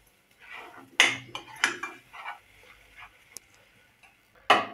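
A spoon scraping and clinking against a pan while thick cashew paste is stirred for a restaurant-style kaju curry, several sharp metallic knocks between softer scraping strokes, close and fairly quiet.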